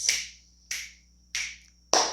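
Four crisp finger snaps ring out alone at a slow, even pace, each sharp and close with a short decay and quiet gaps between them.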